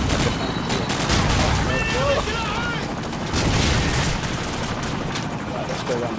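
AK-74 rifle fire in Call of Duty 4 multiplayer, with rapid bursts and distant shots popping over a dense battlefield din throughout.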